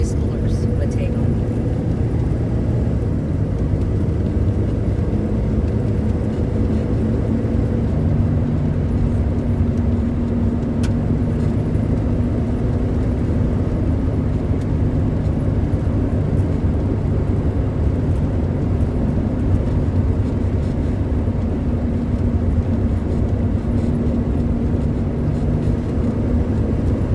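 A 1976 Ford Mustang II drives through wooded roads, giving a steady, loud engine and road rumble that runs unbroken throughout, with a person talking over it.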